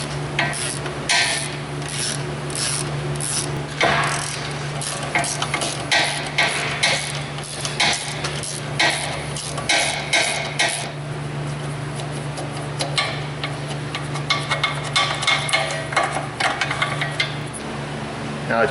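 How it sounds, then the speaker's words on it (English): A socket wrench on an extension works loose the hub assembly bolts on a rear wheel of a Dodge Grand Caravan, giving steady rasping and ratcheting clicks that repeat close up throughout. "We're going to reach through there with a socket extension. We're going to get on the bolts that hold the hub assembly on."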